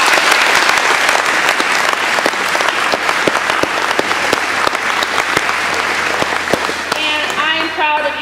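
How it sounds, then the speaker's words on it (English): An audience applauds the seniors at a school senior spotlight event, loud dense clapping sustained for several seconds before tapering off, with a voice faintly underneath near the end. "I think we should give them all a round of applause"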